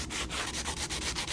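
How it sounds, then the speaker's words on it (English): A sanding block is rubbed briskly back and forth over a wooden frame, giving steady rhythmic scratchy strokes, close and fairly loud, with no voices. "I'm going to go grab like a sanding block just to like sand this smooth"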